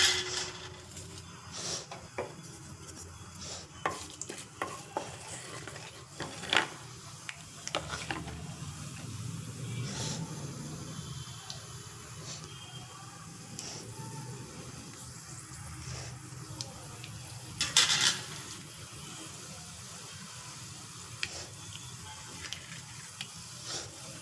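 Mustard and fenugreek seeds sizzle in hot sesame oil while cooking onion thokku, a continuous hiss dotted with irregular crackles and popping ticks, fairly faint, with occasional utensil clinks and no talking.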